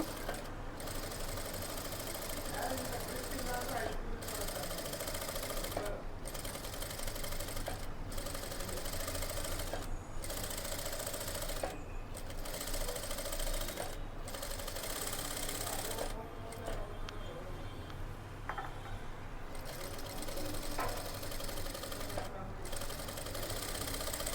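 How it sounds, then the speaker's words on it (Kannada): A tailoring sewing machine stitching slowly as its wheel is turned by hand, giving a steady, evenly spaced clatter of needle strokes with brief pauses, close and clear over soft room noise. "ಸ್ಲೋ ಮೋಷನಲ್ಲಿ ಸ್ಟಿಚಿಂಗ್ ಮಾಡಿ ನೋಡಿ ಹಿಂಗೆ ಕ್ಲೀನಾಗಿ ತಿರುಗಿಸ್ಕೊಳ್ಳಿ ಕೈಲೇ ತಿರುಗಿಸ್ಕೊಬೇಕು ನೀವು"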